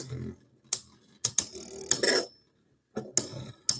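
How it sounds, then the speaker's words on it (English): A Beyblade X top clattering and grinding against the plastic Beyblade X stadium during a Wedge Dash versus Excel Dash battle, heard as sharp, close clicks and scraping bursts separated by brief silences. "I don't want it to grind against the stadium like that"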